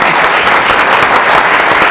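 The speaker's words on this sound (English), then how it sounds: "You may applaud now." A candidate forum audience breaks into steady, dense applause that stays loud and even from start to finish, with no voices over it.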